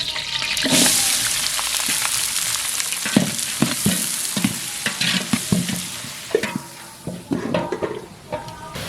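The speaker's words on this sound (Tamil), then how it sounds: "எண்ணெய் நல்லா வர வரமிளகா சேர்த்துக்கலாம் இது கூட வெங்காயம் சேர்த்துக்கலாம்" Dried red chillies and onion fry in hot oil for a drumstick-leaf and peanut stir-fry, a steady close sizzle broken by repeated clinks and scrapes of a spoon stirring the pan.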